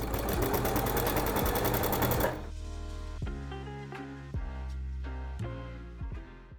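A sewing machine stitches denim cut from old Levi jeans, first a dense, rapid whirring run, then slower bursts of stitching with distinct clicks between pauses, close and loud with no talking.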